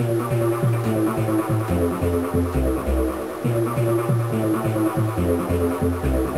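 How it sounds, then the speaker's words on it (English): A repeating TB-303-style synthesizer bass sequence made on a Nord Modular pulses in a steady rhythmic pattern, low and continuous, with layered synth tones above it and no talking. "that way you can get different sequencer sounds like this"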